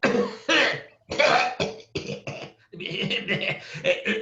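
During a reading of Oscar Wilde's play, a voice imitates a butler's loud cough with a series of forceful, rough coughing bursts separated by brief pauses.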